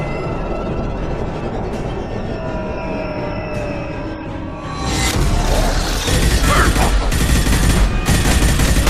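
Rapid gunfire in Mass Effect 2 starts halfway through as a loud, dense barrage of shots, after a steady mechanical rumble with tonal whines.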